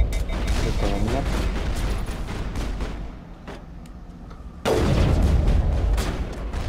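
Heavy gunfire and booming blasts from a Mass Effect firefight, loud and dense with bursts of shots, a brief lull, then a sharp renewed barrage.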